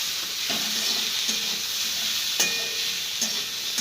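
Potatoes frying with salt in a pan, a constant close sizzle punctuated by several distinct scrapes and clanks of a spatula as they are stirred, no talking.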